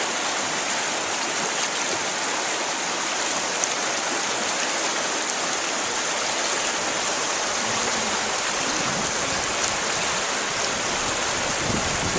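Steady, dense rushing water fills the whole clip, a constant broadband roar like fast-flowing river rapids close by, with no voices.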